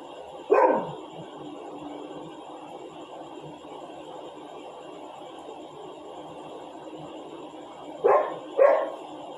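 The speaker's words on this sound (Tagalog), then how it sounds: "Yung aso natakot sa akin." A dog barks on a quiet night street in Pakistan: one sharp, fairly close bark near the start, then a long stretch of low background hum, then two more quick barks close together near the end.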